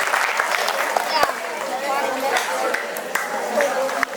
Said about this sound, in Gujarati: ખૂબ સરસ, તાળીઓથી વધાવીએ